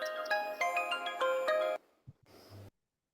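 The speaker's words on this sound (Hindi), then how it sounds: "कोई फोन आ रहा है" A melodic electronic phone ringtone plays for under two seconds during a Hindi poetry gathering, then cuts off, leaving a brief low murmur before silence.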